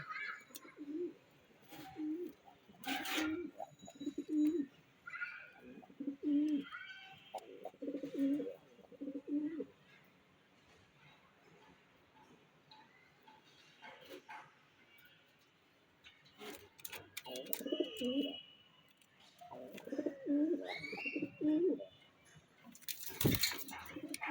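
Jalali pigeons cooing in a loft, close, soft rolling coos in repeated phrases with quiet gaps and a few faint clinks and rustles.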